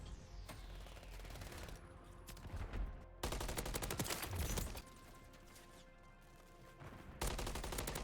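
Rapid automatic fire from an MCW rifle in Call of Duty: Modern Warfare 3 ranked play, with sustained loud bursts separated by short gaps and the final burst cutting in sharply near the end.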